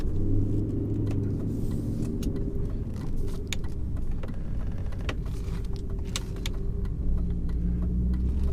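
BMW E39 M5 with a V8 and six-speed manual, a 2000 model, being driven: a steady low engine and road rumble heard from inside the cabin, continuous and fairly even, with faint clicks and rattles on top.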